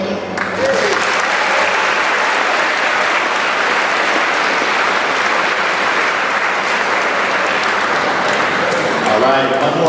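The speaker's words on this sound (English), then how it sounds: "one more round of applause for our student speakers" An audience at the Urbana Middle School promotion ceremony gives a loud, sustained round of applause for the student speakers. The clapping is dense and crowd-wide, and a voice briefly surfaces near the end.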